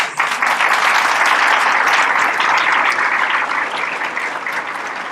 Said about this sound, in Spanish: Aplausos o muchos aplausos